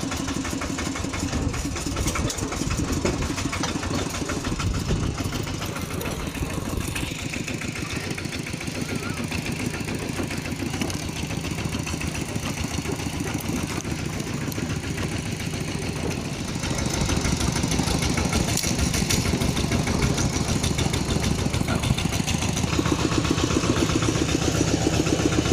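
A tractor engine idling, a steady rumbling chug that runs throughout and grows slightly louder partway through, with someone talking over it.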